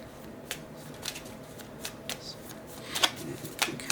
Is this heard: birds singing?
no